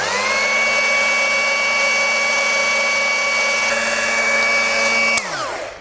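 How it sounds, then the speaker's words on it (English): A polishing machine works over a repaired wheel with curb rash, a loud, steady motor whine held at an even pitch that winds down near the end as the machine stops. "We are starting with the polishing machine."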